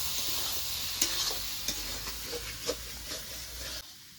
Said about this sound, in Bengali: এবার মশলার সঙ্গে ভাজা পটলটাকে ভালো করে একটু নেড়ে চেড়ে কষিয়ে নেবো